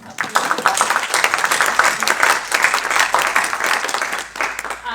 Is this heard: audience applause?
yes